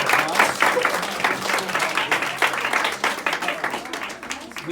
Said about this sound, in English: Go ahead and give your teachers a round of applause.